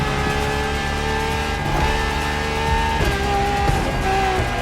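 LaFerrari hybrid V12 supercar driven in The Crew Motorfest on PS5, a steady sustained engine drone with shifting tonal harmonics, loud and continuous without speech.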